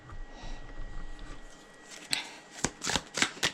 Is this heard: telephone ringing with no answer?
no